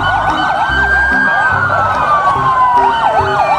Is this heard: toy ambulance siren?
yes